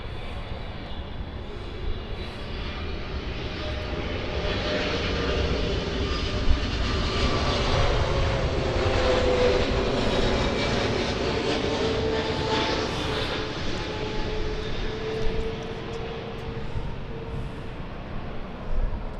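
A British Airways airliner from London Heathrow passes at LAX, a loud, sustained jet engine roar with a broad whooshing rumble that swells and fades slowly over many seconds, heard outdoors without talk.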